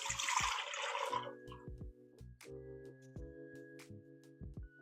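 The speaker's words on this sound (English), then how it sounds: "I'm just going to pour this in." Melted body butter is poured into the bowl of a stand mixer, giving a brief close, noisy splash and gurgle for about a second before it fades and gives way to soft tonal notes.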